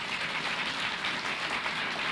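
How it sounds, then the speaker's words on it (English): A luncheon audience applauding sponsors, a steady, even wash of many hands clapping throughout, fairly quiet and distant, with no voices over it. "If we can give them a round of applause"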